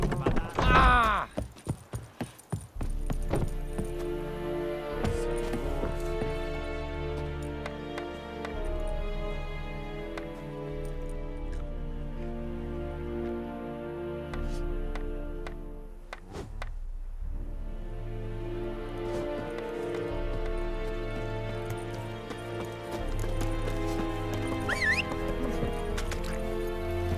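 Horse Roach galloping in The Witcher 3: Wild Hunt, steady rhythmic hoof clip-clop under a layer of game music, moderately quiet, with a brief sharp clatter near the start.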